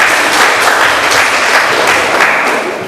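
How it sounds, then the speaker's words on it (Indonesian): A visiting audience of pharmacy students at an agricultural agency gives loud, dense applause that holds steady for a few seconds and begins to fade at the end. "Ayo tepuk tangan, nggak apa-apa"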